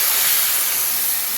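Banh xeo batter hitting a hot pan, giving a loud, steady, broadband hiss that holds evenly throughout with no talking.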